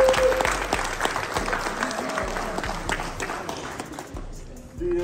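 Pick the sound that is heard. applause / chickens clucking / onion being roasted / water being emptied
applause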